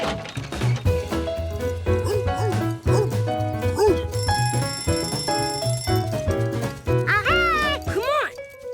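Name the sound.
cartoon dogs barking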